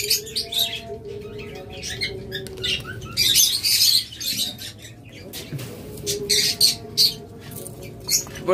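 Pet lovebirds, cockatiels and budgerigars squawk and chirp in a crowded cage area, sharp bright calls coming in irregular bursts with brief pauses, close and fairly loud.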